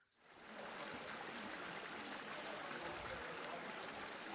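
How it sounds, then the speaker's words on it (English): Flowing river ambience beneath dorms in the Songs of Glimmerwick video game, a soft, steady rushing wash of water that fades in and then holds evenly. "But our dorms are right above a river."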